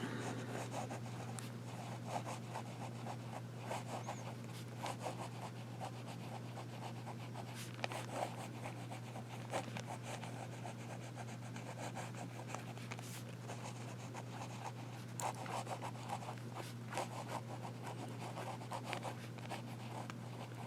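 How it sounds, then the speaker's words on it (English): A vintage Parker 21 fountain pen from the 1950s–60s writing on paper, soft continuous scratching and rubbing strokes with small ticks, close and quiet over a steady low hum. "And it does write nice, smooth nib, nice and wet"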